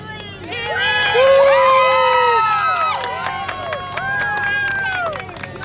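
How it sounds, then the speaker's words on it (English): A homecoming cheering section at a Christian academy football game, voices shouting and whooping together in loud rising and falling cries, close by amid crowd babble. "It's the cheering section"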